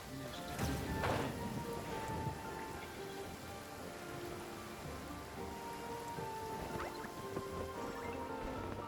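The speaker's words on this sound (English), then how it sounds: "Rain. My hair and feathers are gonna get soaked." Steady rainfall patters in a video game world, a dense even hiss of drops with a few brighter splashes near the start, moderately quiet and unbroken, with no voices.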